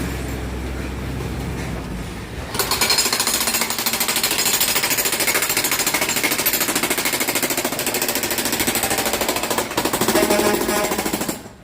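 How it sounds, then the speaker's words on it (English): A jackhammer pounds loudly and continuously on a New York City street, starting after a couple of seconds of traffic rumble and hammering on nearby. "That's where the jackhammer noise is at."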